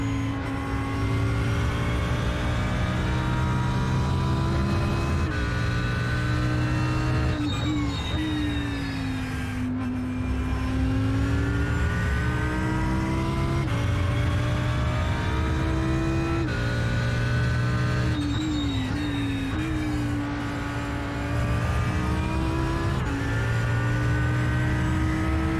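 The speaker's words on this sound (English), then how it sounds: "Had the turn sound up because the Beetle rallycross car is awful quiet" A steady, loud engine drone from the Volkswagen Beetle rallycross car in iRacing at Watkins Glen rises and falls through repeated gear shifts and revving, with no talk.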